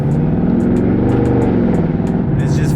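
A Dodge Charger 392 Scat Pack drives with a loud, deep, continuous V8 rumble close by, engine note steady and throaty while someone talks over it.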